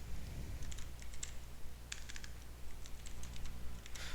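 Computer keyboard typing while writing web page code, bursts of quick key clicks with short pauses between, close and clear over a low steady hum.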